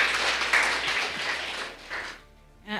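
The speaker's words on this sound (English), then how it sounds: "Let us clap for Juliet." An audience in a church or talk setting applauds, a dense spread of clapping that carries for about two seconds before thinning out, with a brief burst of sound at the very end.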